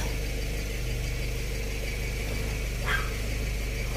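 A single dog bark rings out once, somewhat distant, over the steady low hum of an idling engine.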